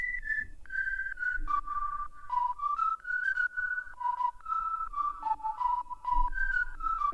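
A bright synthesized whistle lead made in FL Studio Mobile glides between sustained notes over a faint, soft rhythmic backing, playing continuously.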